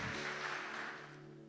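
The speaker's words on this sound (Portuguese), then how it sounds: "Você pode dar um aplauso para o Senhor?" A church congregation applauds, a dense burst of clapping that starts full and gradually thins and fades, with a sustained tonal hum like organ or keyboard beneath it.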